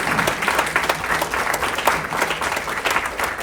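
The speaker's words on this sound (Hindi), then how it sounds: "तालियां नहीं रुकनी चाहिए, मैं रुकूंगी" An audience at a Siachen-themed Indian Army tribute event in Brampton applauds steadily, a dense, continuous wash of clapping heard close without a break.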